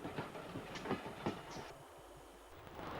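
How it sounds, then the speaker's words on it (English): Vintage Southern Region branch-line train arriving at Chevening Halt on the Westerham branch, heard as a steady rolling rumble with faint rhythmic clatter at moderate distance, no talk. "Another Westerham-bound train arrives at the next station,"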